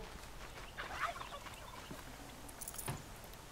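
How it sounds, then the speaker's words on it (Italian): A turkey gobbles in the Horizon Zero Dawn video game, a short rattling call followed by a second brief one, faint over quiet background ambience. "Ho il tacchino"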